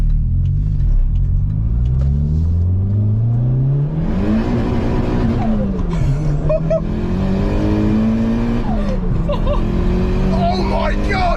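A modified 300bhp Toyota Sera engine pulls hard through the gears, revving up, dropping on the shift, then climbing again, loud and close from inside the car, with a steady road rumble underneath.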